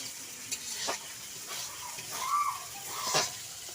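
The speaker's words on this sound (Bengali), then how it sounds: "আমার মা এখন মাংস রান্না করছে" Poultry meat cooking in a pan at night in a home kitchen, a soft sizzle with several spoon stirs and scrapes, faint and intermittent, with a brief bird-like chirp in the background.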